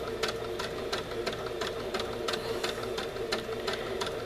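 A sewing machine runs a blanket stitch along a pillow, a steady mechanical whir with sharp needle clicks repeating in a quick, regular rhythm, close and alone with no talk.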